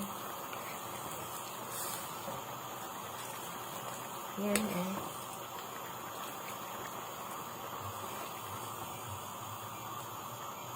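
A steady bubbling simmer of crab and vegetable stew with coconut milk in a pot, constant hiss-like noise, a brief clink near the middle and a short spoken remark over it.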